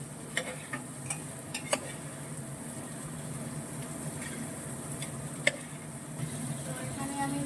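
Daliya is stirred in a pan on the stove, with a faint, low frying hiss and occasional light clicks and scrapes from the spoon spaced irregularly across the quiet background.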